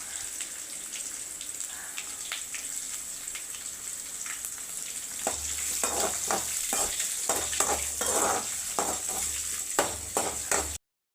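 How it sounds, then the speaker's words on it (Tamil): Dried red chillies and onions sizzle and fry in a hot pan for a purple cabbage dish, with a steady crackle and repeated scraping stirs of a spoon growing louder midway. "காஞ்ச மிளகாய் ஆட் பண்ணிட்டு நல்லா வதக்குங்க."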